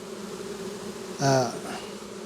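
Honey bees buzz around an open, heavily populated hive, a steady droning hum with one louder, close buzz swelling briefly near the middle.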